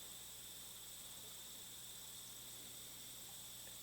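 Crickets chirp in a steady, continuous high buzz, faint and distant, with no other sounds.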